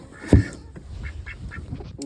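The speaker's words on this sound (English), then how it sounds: "Ducks don't like to come close" Ducks quacking nearby, a loud honk-like quack followed by several softer quacks, with some background rustling.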